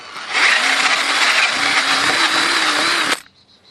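Power drill countersinking bolt holes in wood while building deck stairs, a loud steady whir of about three seconds that cuts off abruptly.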